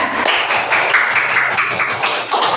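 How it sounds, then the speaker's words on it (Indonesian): A class of students claps together for a classmate, a dense, bright patter of many hands close by, steady for a couple of seconds with no talking. "Tepuk tangan buat Diana"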